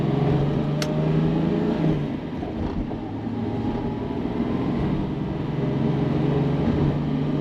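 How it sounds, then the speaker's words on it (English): A 1969 Mercedes-Benz 280SL Pagoda with 18,500 original miles, its engine humming steadily from inside the car while driving, with a low droning tone, a brief pitch change partway and road rumble underneath. "Nice running and driving car."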